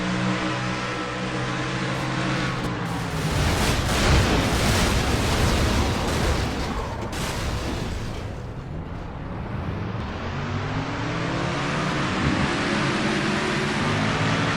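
A stock car crash in a NASCAR racing video game: a loud, sustained roar of engine and grinding impact noise that fills the whole stretch, with a dip and then a rising engine pitch near the end.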